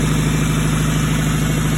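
A just-started engine idles roughly. The steady rumble is loud and close, with a dense, ragged texture and no voices over it.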